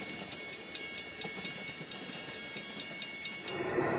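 An Amtrak train carrying the Ocean View dome car rolls past, with rhythmic clickety-clack of wheels over rail joints at moderate distance, growing slightly louder toward the end.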